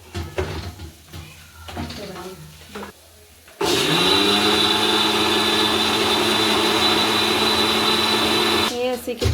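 A mixer grinder starts abruptly after a few seconds of talking and then grinds chickpeas in a loud, steady, high-pitched whir that runs unbroken for about five seconds before cutting off.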